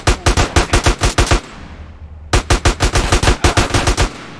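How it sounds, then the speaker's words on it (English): Rapid automatic gunfire aimed at the player in GTA San Andreas Definitive Edition, two loud sustained bursts of fast, evenly spaced shots separated by a brief gap. "They're shooting me."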